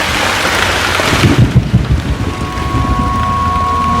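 A heavy rainstorm with a low rumble of thunder plays in a 2003 film scene, a dense hiss of pouring rain throughout with a brief rolling boom near the middle, loud and continuous, then a faint steady tone underneath.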